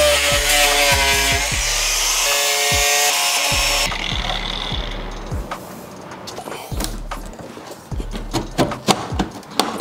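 A power tool trims the back edge of a carbon fibre rear diffuser on a BMW F83 M4, a loud, steady high-pitched cutting whine for about four seconds, then scraping, rubbing and knocking handling noises.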